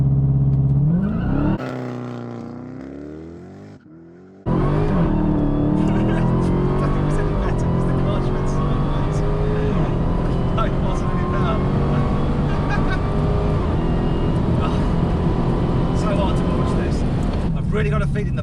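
Dodge Challenger Demon launching hard from a standstill, a brief revving whine at first, then after a short lull the engine roars loud and sustained as it pulls away, with strong rising harmonics throughout.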